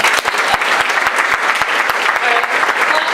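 An audience of new Yelp employees claps rhythmically in unison at a motivational sales speech, sharp, loud and close, with a cheering crowd underneath.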